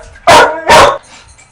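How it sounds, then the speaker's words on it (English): Two loud, close dog barks in quick succession, indoors, followed by quiet room tone. "Dog's going mad there because my partner's phone's going."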